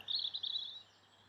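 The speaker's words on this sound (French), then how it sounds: "Ces chants d'oiseaux, foutons-leur la paix." Birds sing outdoors in a short, faint burst of high chirping notes in two quick phrases, then fade to near silence.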